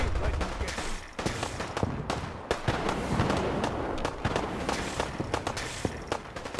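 Rapid bursts of gunfire in the modded video game Fallout 4, raiders under fire, sharp repeated shots crackling loud and continuous throughout with dense overlapping reports.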